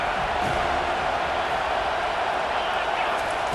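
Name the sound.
stadium crowd cheering on third down in college football video game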